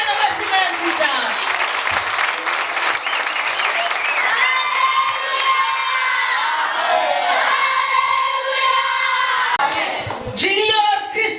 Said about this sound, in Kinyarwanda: Mukomere Imana amashyi menshi cyane.